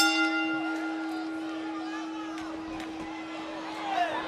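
Wrestling ring bell clangs at the start of a WWE SmackDown Live tag match, a sustained metallic ring and its fading overtones over a cheering arena crowd with a commentator talking.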